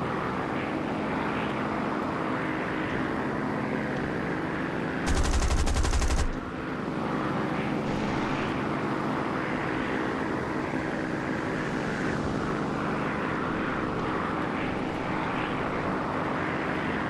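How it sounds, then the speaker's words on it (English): A Stuka dive bomber in a World War II desert tank-combat video game drones overhead with a continuous engine roar. A loud, rapid burst of machine-gun fire cuts through for about a second. "That other Stuka's coming back."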